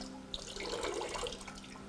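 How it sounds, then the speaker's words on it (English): Water pours out of a glass Klein bottle in a short gurgling splash, close and fairly soft, with no voices. "then I pour out the water"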